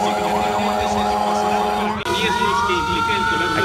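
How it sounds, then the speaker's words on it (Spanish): A classic fire truck in an Independence Day parade in El Salvador sounds its siren, a loud wailing, warbling tone that sweeps up and down and then shifts into a rising wail, with crowd noise underneath. "Aquí vienen con un camión de bomberos clásico."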